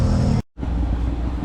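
Steady low engine rumble and road noise from inside a moving auto rickshaw, loud and close, broken by a brief dropout before the drone resumes.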